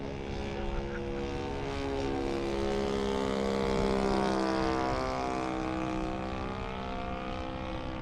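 A radio-control Hangar 9 10cc J3 Cub model plane with a Saito FG-11 engine flies on its maiden flight, the engine droning loudly and steadily with a shifting pitch as it passes overhead.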